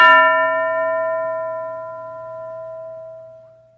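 A single bell is struck once during a classroom English lesson game, ringing out with a bright metallic strike and a long, clear, slowly fading tone on its own.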